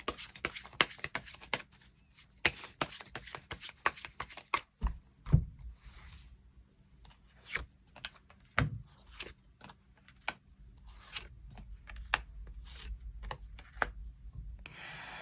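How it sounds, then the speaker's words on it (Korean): Close, quiet card handling as a tarot deck is shuffled and extra cards are drawn, with bursts of rapid riffling flicks broken by pauses and a few soft thumps as cards are laid down. "또 앞으로 나의 연애에 필요한 조언의 카드 무엇이 있을지 추가 카드 뽑아보도록 하겠습니다."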